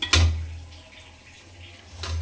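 Water is poured into a pan of frying potatoes and cauliflower, giving a short splashing burst and hiss near the start, then a low simmering sizzle with another faint swell at the end.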